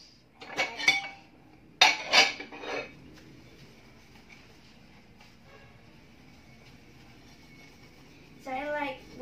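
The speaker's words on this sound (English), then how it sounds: "So I like washing dishes because I cannot sweep the floor." Dishes and cutlery clink and clatter in a couple of bursts during hand washing, then quieter rattling, with a voice speaking near the end.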